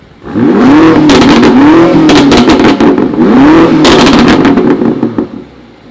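A powerful 2019 BMW M5 Competition sedan engine with Armytrix downpipes, in Sport Plus mode, revs loudly three times in quick succession, each rise and fall punctuated by sharp exhaust crackles and pops.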